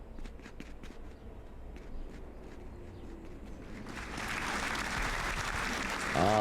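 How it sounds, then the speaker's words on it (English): Steady clapping from an audience at an esports championship match swells into louder, denser applause toward the end, with a faint tone rising at the close. "The audience coming in clapping here for Shout"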